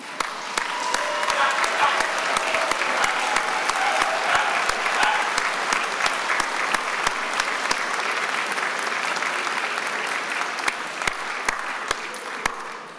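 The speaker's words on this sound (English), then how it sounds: "I want you to give them also a tremendous round of applause." Large audience at a university degree ceremony in Birmingham giving a long, sustained round of applause, dense clapping with sharper individual claps standing out throughout.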